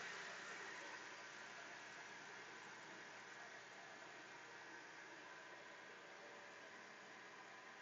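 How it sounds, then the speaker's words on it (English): A close, loud, unbroken drone of nearby tractor engines fills the scene with heavy broadband rumble and hiss that stays constant from start to finish. "Oh, those are tractors."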